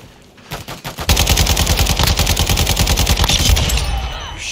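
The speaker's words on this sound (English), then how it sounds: "Shots, Parker." Rapid bursts of video game gunfire during a tactical shooter session: a few scattered shots, then a dense, loud, sustained rattle of automatic fire lasting several seconds with no talk over it.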